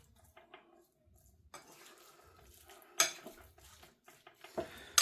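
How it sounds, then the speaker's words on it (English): Meat and canola oil are tossed and stirred in a bowl for tacos, with soft, squelchy mixing and sharp clinks of a utensil against the bowl, close and quiet with no voices. "I just want to mix that around"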